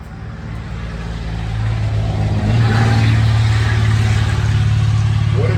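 A car engine swells steadily louder as a vehicle approaches and passes close by, a continuous low roar.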